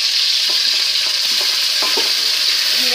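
Ground cumin paste sizzles as it fries loudly in hot oil with whole cumin, after potatoes were fried for a village-style tilapia and green banana dish; a continuous close crackle carries light stirring scrapes.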